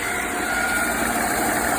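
A counter-rotating brush tile and grout cleaning machine runs with both brushes spinning, giving a loud, steady motorized hum and broadband whir that holds constant without a break.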